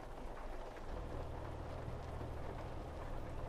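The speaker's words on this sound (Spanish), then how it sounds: "esta lluvia cada vez se está poniendo más tensa" Steady rain in the truck-driving game Euro Truck Simulator 2, a continuous hiss of falling water drumming over a low rumble, constant and fairly quiet with no breaks.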